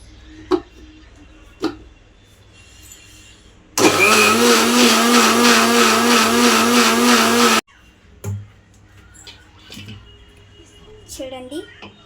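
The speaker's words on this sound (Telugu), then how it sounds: "చూడండి మళ్ళీ కొంచెం మిక్సీ పెట్టుకోవాలి" A mixer grinder whirs loudly for about four seconds as it blends a mango milkshake, a steady dense motor drone that starts and stops abruptly, with quiet kitchen clinks and bumps before and after.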